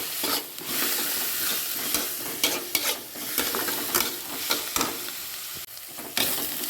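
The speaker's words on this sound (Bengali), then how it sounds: "এবার দেখুন পেঁয়াজটা ভাজা হয়ে গেছে, আর একটু ভাজা হবে।" Onions frying in a pan for a poppy-seed hilsa fish dish, a loud continuous sizzle close up, broken by repeated scraping stirs of the spatula.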